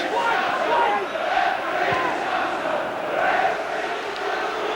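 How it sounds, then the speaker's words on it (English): A large football stadium crowd at a 1998 League Cup semi-final between Middlesbrough and Liverpool jeers in a steady, loud roar with swelling waves of noise, filling the whole stretch. "Crowd unhappy with the treatment that McManaman's getting from Baker."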